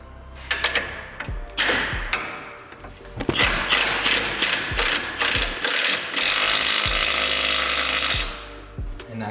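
A ratchet clicks in quick bursts as a nut is fastened onto a motor mount bolt in the engine bay of a Sonoma truck during an LS swap, with metallic clunks and a steadier whirring run near the end.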